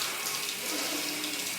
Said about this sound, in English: The shower's cold water hitting my body.